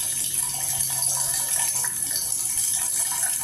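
A kitchen or bathroom water tap runs steadily, giving a close, even rushing hiss with no break, no other sounds and no voices.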